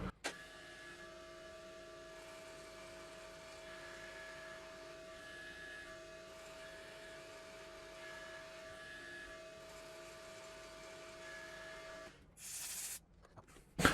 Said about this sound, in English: Until now we basically did face milling, we just dropped down incrementally.